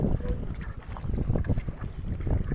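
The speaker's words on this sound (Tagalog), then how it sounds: "Binaandar na yung barko." A boat's engine rumbles low and steady at sea, with wind buffeting the microphone and water noise around it; no talk is heard.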